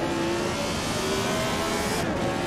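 A Lotus 72 race car in the Assetto Corsa racing game powers out of the final corner at Laguna Seca, its engine note climbing steadily and loud with no talk over it.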